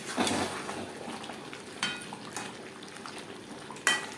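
Fried potatoes going into a nearly cooked chicken curry over a high flame, a low sizzle and bubbling under a few sharp clatters of a utensil against the pot, no talk.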